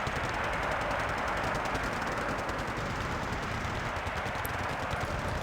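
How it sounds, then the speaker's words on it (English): Sustained rapid machine gun fire from the Wargame Red Dragon video game rattles on in a dense, even stream of shots, loud and unbroken throughout. "It's just machine gun fire"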